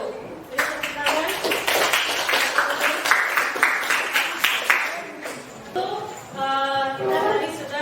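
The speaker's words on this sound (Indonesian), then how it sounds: "Beri tepuk tangan." Applause from a classroom audience after a group presentation, rapid uneven claps from a small group close by, fading out after several seconds as a voice begins speaking.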